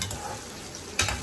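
Fenugreek leaf vegetable dish frying in a pan, a steady close sizzle with a brief stirring clatter near the end.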